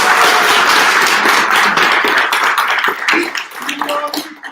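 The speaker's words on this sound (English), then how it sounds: "So I would like a big round of applause for Sergio, Olga, Tudor, Giri, Andrei, and Vladimir." Loud applause from a startup pitching event audience for the judges, dense continuous clapping near the microphone for about four seconds before it thins out.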